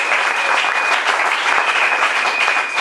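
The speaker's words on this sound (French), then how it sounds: "On peut acclamer pour Jésus." A church congregation applauds for Jesus during a French-language service, with dense, steady clapping that holds at full loudness from start to finish with no break.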